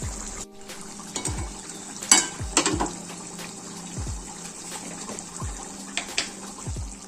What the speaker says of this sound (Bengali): এই যে এখানে আমাদের তরকারি ফুটছে